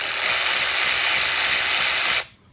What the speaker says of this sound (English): It does have a variable speed trigger, which as you can see, you can go slow, medium, or faster.